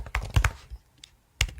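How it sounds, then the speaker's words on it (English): Several quick clicks of fingers typing on a computer keyboard, a short burst of keystrokes followed by a pause and one more tap, close and fairly quiet. "You can just start typing in their names"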